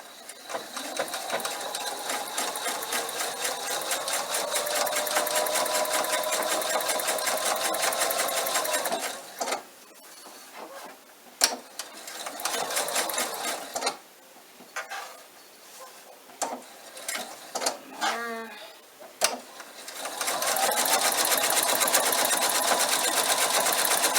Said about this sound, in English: I'm just going to sew the hem on the inside so you don't see the raw edges